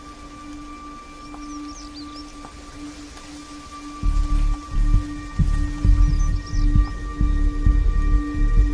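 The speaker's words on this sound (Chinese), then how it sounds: "要下雨了。" Rain patters softly at first, then grows louder and heavier halfway through into a dense, close downpour with scattered thicker drops; no one speaks.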